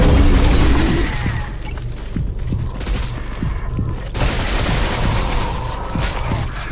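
An enemy turret firing in the shooter game Selaco, a loud continuous barrage of rapid booming shots with dense crackling that carries on through the whole stretch.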